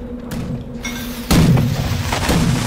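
Sharp gunfire bursts from the PC game Air Buccaneers, a heavy boom-like shot followed by another about a second later over a steady low hum.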